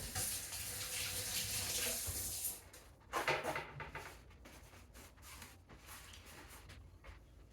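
Water from a kitchen tap runs steadily into a sink for about two and a half seconds, stops, then comes in short bursts of splashing and rinsing with small clatters, fairly quiet and close.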